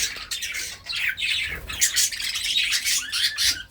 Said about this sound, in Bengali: কত সুন্দর অ্যাক্টিভ এই পাখিগুলো।